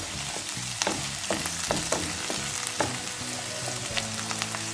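Sliced bitter gourd fries in a pan with a continuous bright sizzle, punctuated by occasional scraping stirs, with no voices.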